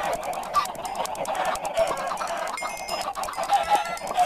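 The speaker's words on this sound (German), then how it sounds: "mittlerweile hört man die Hühnerschreie schon wieder richtig" Many chickens in the video game Minecraft clucking and squawking over each other in a dense, continuous flock chatter, fairly loud and close, with no speech.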